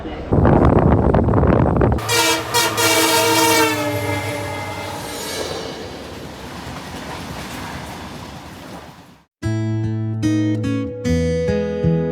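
A Garib Rath special train from Kolkata to Guwahati rumbles along with a loud horn blaring repeatedly, then a sharp cut to a clear multi-tone horn sounding again.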